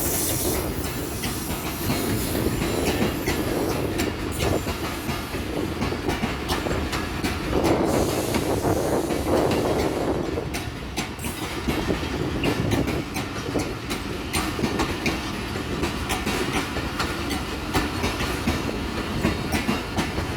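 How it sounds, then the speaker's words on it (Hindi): Train pulling into Bahawalpur railway station, with a continuous loud rumble, hissing and rhythmic clickety-clack of wheels over rail joints sustained throughout. "ये कौन सी ट्रेन आ रही है?"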